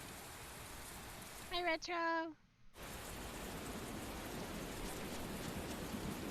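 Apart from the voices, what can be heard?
rain falling in video game Tales of Berseria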